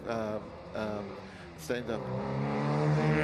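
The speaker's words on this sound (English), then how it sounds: "Brian Cather just went past our position in the MGB from 1963." A 1963 MGB race car at a grassroots historic sprint event goes past with its engine tone rising and falling, heard under someone talking steadily over a commentary or loudspeaker.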